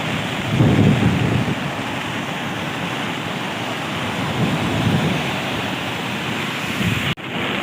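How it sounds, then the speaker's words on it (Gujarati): A flooded river surges past with loud, deep rushing water and waves crashing, swelling in heavy low pulses over a continuous roar, with wind mixed in and a brief dropout near the end. "આ જો અહીંયા પાણી ભટકાય છે મોજા"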